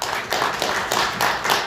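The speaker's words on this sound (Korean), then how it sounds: "큰 박수로 청해 듣겠습니다" Forum audience clapping to welcome a computer engineer presenter, a brief burst of dense applause pulsing in short waves, close and fairly steady.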